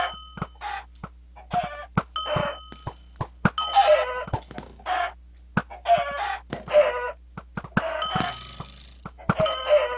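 Cartoon chickens from the video game Bawk Bawk Battles cluck and crow in quick bursts with bright chimes between them, loud and close, with no talking.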